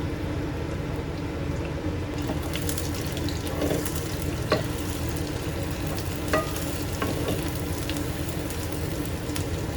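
Green onions and garlic sizzle and fry steadily in a hot pan, a continuous crackling hiss with occasional stirring clinks and scrapes over the top, close and fairly loud with no talking.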